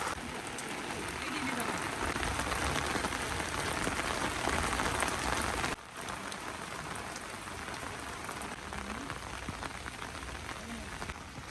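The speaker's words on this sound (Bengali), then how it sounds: "বৃষ্টি পড়া অল্প অল্প, মানে ফুল গাছে, তারপরে সব গাছে গাছে" Light rain patters steadily on flowering plants and trees outdoors, a dense continuous hiss with scattered drops, briefly dipping midway then continuing at similar strength.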